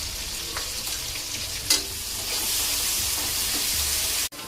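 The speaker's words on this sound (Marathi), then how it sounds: "आता हे परतून घेते आधी" Crushed garlic, green chili and a pinch of asafoetida sautéing in hot oil in a pan, a steady close sizzle with a few stirring scrapes and a brief knock near the end.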